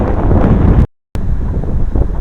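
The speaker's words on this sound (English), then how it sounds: "it's windy today" Strong wind buffets the microphone with a loud, continuous roar outdoors in the wilderness around Matagalpa, Nicaragua, near the entrance to La Selva Negra, cut by a brief dropout of silence.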